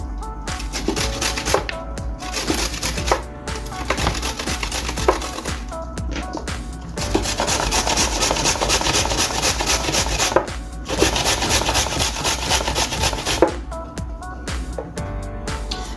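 Zucchini or cabbage rubbed over a very sharp hand grater in a home kitchen, a long run of close, rough rasping strokes broken by a few brief pauses, with no talk.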